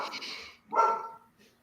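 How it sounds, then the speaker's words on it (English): A dog barks twice, a short bark followed by a louder one, fairly near, with a faint trailing yip, amid a quiet room. "Shut that dog up."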